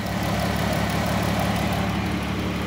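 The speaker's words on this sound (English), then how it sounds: "And the compressor is still running." A 2012 Town & Country minivan idles with its A/C compressor running, giving a steady, loud mechanical drone with an even low hum and no talk.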